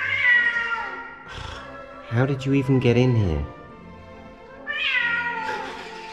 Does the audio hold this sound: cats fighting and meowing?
yes